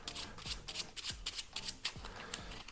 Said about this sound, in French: Donc il mélange toutes les cartes.